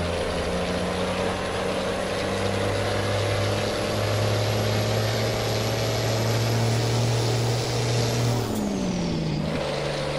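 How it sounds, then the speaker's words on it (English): A heavy Mack R truck engine in American Truck Simulator drones steadily at a low, loud pitch, then its tone drops sharply near the end as the revs fall. "Now we get to enjoy the beautiful sounds of this truck."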